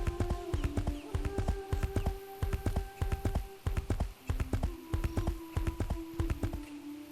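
Horse hooves clip-clop steadily in the martial-arts video game 9yin, a continuous run of evenly spaced, fairly loud hoof taps under a sustained musical tone, with no voices.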